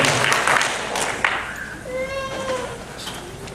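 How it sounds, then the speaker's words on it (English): Audience applause rings out at a Niagara Falls Comic Con Q&A panel with Sesame Street guests, a dense wash of clapping in the first second or so that thins out under voices and some cheering. "Applaud if you're liking it so far."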